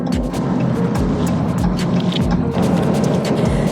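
A pickup truck used for hotshot trucking drives along a road, giving a loud, steady engine and road roar with repeated thumps from the tyres.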